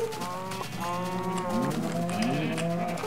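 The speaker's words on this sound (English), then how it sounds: "Still a lot of cows here." Cattle in a farming video game, several overlapping long, loud moos close by, one after another with hardly a pause.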